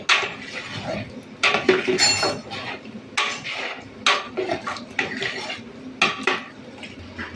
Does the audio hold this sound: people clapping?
no